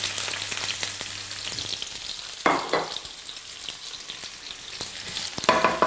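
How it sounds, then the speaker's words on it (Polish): Peppers and onions sizzle steadily in a hot pan, with a few clattering stirs and scrapes of a utensil breaking through the frying hiss. "Papryka razem z cebulą oczywiście smażymy."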